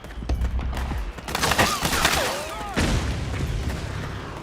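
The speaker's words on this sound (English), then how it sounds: "Suppressing fire!" Gunfire fusillade in the Metal Gear Solid 4 video game: loud, dense bursts of rifle and automatic fire with booming impacts and whistling ricochet-like sweeps, continuing steadily throughout.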